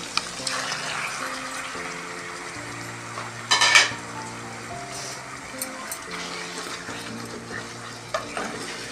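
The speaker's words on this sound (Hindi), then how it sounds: "अब इसे भी हम 2 मिनट तक अच्छी तरीके से भूनेंगे।" Minced meat fried with garlic and ginger in a pan, a steady sizzle running throughout while a utensil stirs and scrapes, with a louder clatter of metal partway through.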